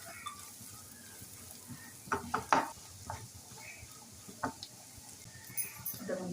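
Garlic, ginger and spices being stirred in a pan for crab fry, giving soft scraping clinks and light sizzling, with a few louder spoon strikes against the pan over a quiet frying bed.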